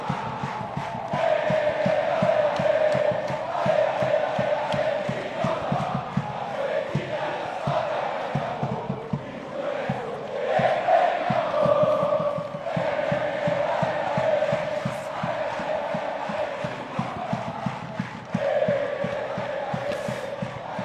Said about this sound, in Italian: facciamo sentire anche un po' quel che è il tifo viola